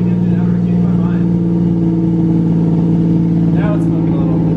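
A Nissan 240SX engine with a fence post exhaust runs loud and close, a steady droning rumble with a slight revving swell, while people talk faintly over it.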